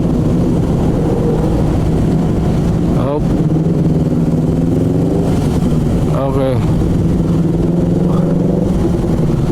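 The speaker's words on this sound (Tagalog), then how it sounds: "May naririnig tayong andar ng big bike." A big bike motorcycle engine runs in rainy, slow traffic under Cubao, a steady low rumble with a couple of brief revving rises, close by, while someone speaks briefly over it.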